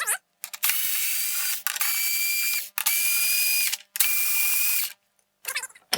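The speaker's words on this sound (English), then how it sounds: "We are going to remove those 4 screws." A power driver backs four screws out of the lid of a Goal Zero Yeti 400 power station, giving four steady whirring bursts of about a second each, separated by short pauses, close and clear.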